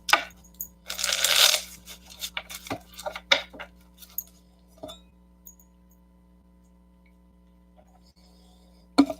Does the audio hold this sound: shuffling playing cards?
yes